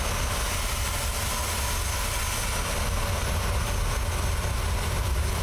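PMDG Boeing 737-800 jet engines in Microsoft Flight Simulator, held at taxi thrust on an uphill taxi in Alaska Airlines livery: a steady, loud low roar and whine without pause, with no speech.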